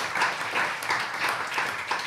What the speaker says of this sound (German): erstmal kräftigen Applaus